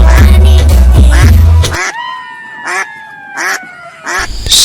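A plump cartoon duck quacks in a run of nasal, honking calls, each short and separate with gaps between, right after a loud burst of background music cuts out.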